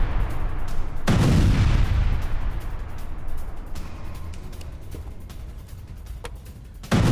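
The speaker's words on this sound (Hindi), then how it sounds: "भारी विस्फोट से मस्जिद को उड़ाने का दावा किया गया।" Heavy explosions from an Israeli strike on a mosque in Lebanon: a loud sudden blast followed by a long rolling rumble and scattered crackling pops, with another sharp burst at the end.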